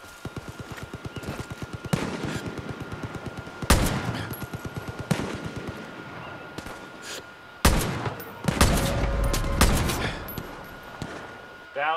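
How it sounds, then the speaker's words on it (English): Rapid automatic gunfire in Far Cry New Dawn, with enemies shooting at friendlies: dense rattling bursts with several loud, close cracks, a player talking now and then. "They're trying to shoot at friendlies."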